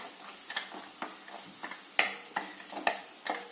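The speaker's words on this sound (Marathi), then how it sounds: "थोडंसं तापल्यानंतर त्यामध्ये हळकुंड फोडून घालायचं छानस तळू द्यायचंय" Broken pieces of dried turmeric root frying in hot oil in a pan on low heat: quiet, sparse crackles and small sharp pops at irregular intervals over a soft background hiss.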